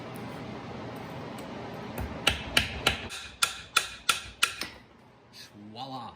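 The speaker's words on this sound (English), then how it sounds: "when all else fails, the hammer prevails" A hammer strikes a Toyota solid front axle Birfield knuckle about eight times in a steady run of sharp metallic blows, loud and close, while a voice talks over the first stretch.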